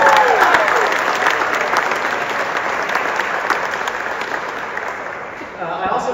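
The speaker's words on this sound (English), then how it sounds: "Let's give them all one more big round of applause." Audience at a charity gala for a children's camp breaking into loud, sustained applause with scattered cheers, the clapping easing slightly before swelling again near the end.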